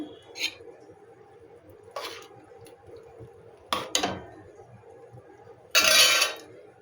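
A lid is set over a pot of parshe fish curry with radish, potato and cauliflower on a switched-off gas stove, with a few light metallic clinks followed by a louder, longer scraping clatter near the end, close by and with no voices.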